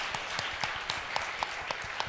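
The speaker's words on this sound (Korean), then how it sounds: "감사도 박수 한번 다시 한번 해야겠습니다." A crowd at a special prayer service claps steadily, a dense patter of many hands at moderate volume, with no voices over it.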